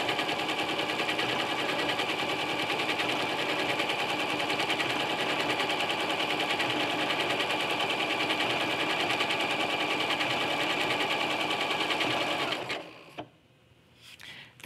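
A sewing machine stitches a decorative multi-stitch zigzag for quilting at a 2.5 stitch length, running steadily and loudly with a rapid even chatter for about twelve seconds before stopping abruptly.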